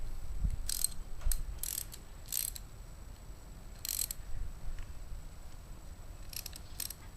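A ratchet wrench with a 14mm socket tightens the bottom bracket bolts on a 2010 GMC Denali road bike, giving short bursts of clicking spread across the clip, close and fairly clear over a low background rumble.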